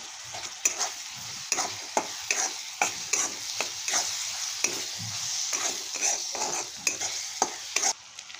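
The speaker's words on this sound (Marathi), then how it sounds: "ह्यामध्ये आता टोमॅटो टाकून घेऊया। टोमॅटो परतून घेऊ।" Tomatoes stir-fried with browned onion in a pan for a Satara-style bombil chutney, a steady close sizzle broken by repeated scraping strokes of a spatula stirring at a regular rhythm, with no voices.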